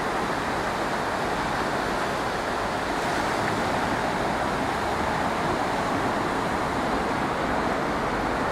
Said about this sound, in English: We got the sea coming in.